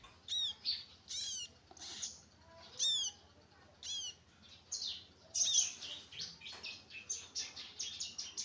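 Young bar-winged prinia chicks give thin, high chirps in short, rapid bursts, repeating irregularly, close and fairly faint against a quiet low hum.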